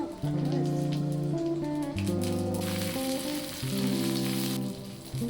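Fennel seeds crackle in hot oil as a tempering for pappu vakai, a dense, rain-like sizzle that stays steady over a background of melodic music.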